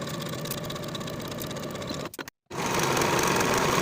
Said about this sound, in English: Sew this underarm seam with a 3/8 inch seam allowance